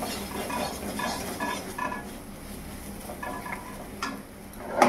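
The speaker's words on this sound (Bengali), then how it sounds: "এখন সবগুলো নেড়ে চেড়ে মিশিয়ে নিলাম।" Vegetables and turmeric are stirred in a cooking pan. A close, steady scraping and clinking of a utensil against the pan repeats in rhythmic strokes, with a sharper knock at the end and no talking.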